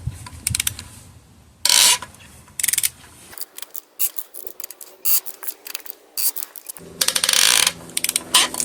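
Cylinder head bolts on a Toyota Sienna 3.3L engine being loosened by hand during a teardown, giving bursts of metallic ratcheting and clicking with short pauses and scraping between them, close and fairly loud, with no talking.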